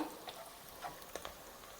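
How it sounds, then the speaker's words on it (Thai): Curry paste and garlic stir-fried in oil in a pot for a Thai chicken curry dish, a faint sizzle with soft intermittent scraping clicks of stirring. "น้ำมันลงหม้อแล้วก็กระเทียม เครื่องแกงลงไปค่ะ ผัดให้หอม"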